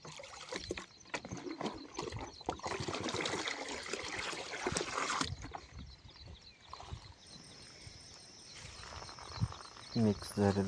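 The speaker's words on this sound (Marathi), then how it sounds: "मिक्स झालेलं पाणी पंपात भरलेलं चालू आहे।" Herbicide-mixed water is poured into a 20-litre petrol sprayer pump, making an uneven splashing trickle that shifts in strength. The pouring is fairly quiet and close, with some faint background murmur beneath it.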